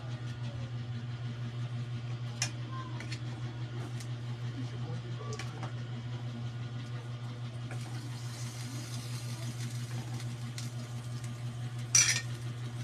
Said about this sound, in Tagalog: nagsandok na ta og kanon kay naluto naman ang atong pansit